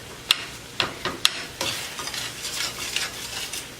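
Beef filling for Asian-style lettuce wraps stirred together in a hot pan: a soft frying sizzle under repeated sharp scrapes and taps of a utensil against the pan, close and fairly loud.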